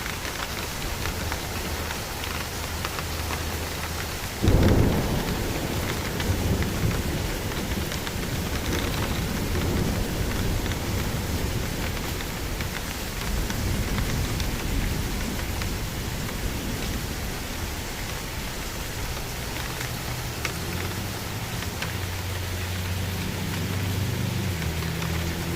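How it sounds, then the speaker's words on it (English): Hail and rain storm pelting a house, knocking on walls, windows and doors: a steady dense hiss of rain with a sharp heavier burst of impacts early on, continuing throughout with no talking. "I heard that hail. It's knocking on all the walls"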